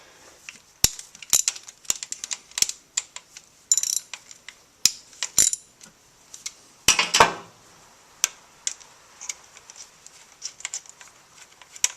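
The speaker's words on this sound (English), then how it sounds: "take off these two 8mm bolts to pull off the bearing here" Metallic clicks and ratcheting taps from a wrench undoing two 8mm bolts on a Ferrari 348 throw-out bearing, sparse irregular ticks and short clatters, close and crisp in a quiet space without talking.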